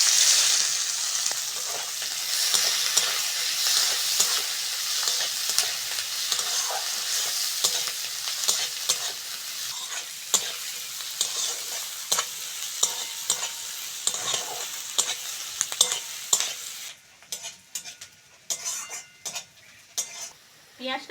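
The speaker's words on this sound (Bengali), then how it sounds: "মাছ ভাজার তেলে পেঁয়াজ কুচোনো আর কাঁচা লঙ্কাটা দিয়ে দেবো।" Chopped onions and green chillies fry in leftover fish-frying oil for tilapia curry, a loud, crackling sizzle close up, punctuated by repeated spatula scrapes and clinks against the pan that become sharper and choppier toward the end.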